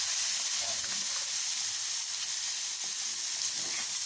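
Pork and liver adobo sizzles in a pan as soy sauce is poured in, a steady close hiss and crackle of frying that holds evenly throughout with no voices.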